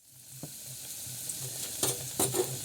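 Chops frying in hot oil: a quiet steady bubbling sizzle with a low hum underneath and a few sharper crackles and clinks toward the end, close and fairly soft, no voices.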